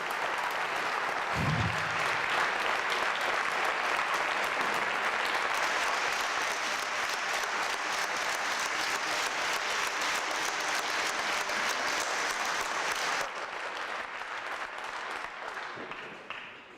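Sustained audience applause at a creation versus evolution debate, steady dense clapping that carries on for many seconds before thinning and fading out, with a short voice near the beginning.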